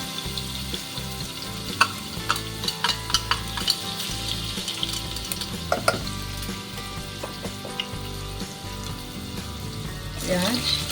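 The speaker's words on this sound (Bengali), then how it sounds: "একটুখানি হিং, রসুন একটুখানি দিয়েছিলাম তোমার দইটা ফ্যাটানোর সময়, আর একটুখানি এখন দিয়ে দিচ্ছি।" Asafoetida and garlic fry in oil for kadhi, making a continuous close sizzle and crackle with occasional clinks of a utensil against the pan.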